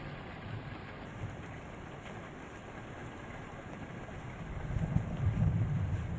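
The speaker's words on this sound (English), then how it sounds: "the sound of the rain blistering on the hard ground" A steady rainstorm in the video game Warlord: Britannia pours onto hard ground as a dense, continuous hiss mixed with low wind rumble, swelling slightly toward the end.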